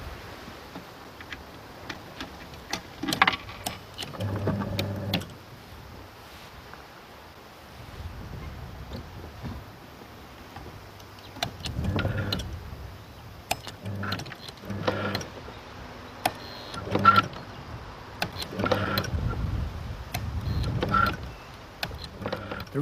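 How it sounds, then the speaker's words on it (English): A relay-controlled electric motor drives a homemade nutcracker machine built for an exhibition, running in several separate bursts of whirring and clunking, close and moderately loud against a quiet background. "The relays control the motor."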